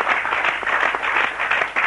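A studio audience at a broadcast gives steady, dense applause, loud and close, with many hands clapping together throughout and no break in the sound.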